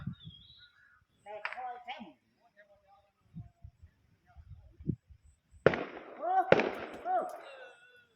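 Firecrackers pop and crackle outdoors at a sky lantern launch, with scattered small bangs followed by two loud sharp blasts and crackling, while people talk and shout nearby.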